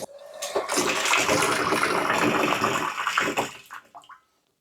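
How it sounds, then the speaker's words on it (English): Water gushing steadily into a barrel through a float valve in an off-grid water system, a loud continuous rush that cuts off abruptly, leaving a few faint trickles and drips. "The barrel is filling nicely"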